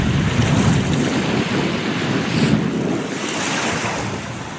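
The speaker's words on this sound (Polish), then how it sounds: "Dzisiaj najmniejsze fale są." Steady rush of sea waves washing in continuously, with wind buffeting the microphone, loud and close, no voices.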